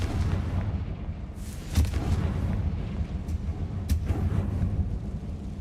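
Muffled explosive blasts from the Confringo fire spell in Hogwarts Legacy go off over a steady game rumble, two sharper bursts standing out a couple of seconds apart.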